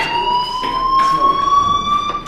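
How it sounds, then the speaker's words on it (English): A fire alarm from the video game Life is Strange rings loudly and continuously, a high electronic tone with rhythmic pulsing bursts, close and dominant. "do you hear that fire alarm?"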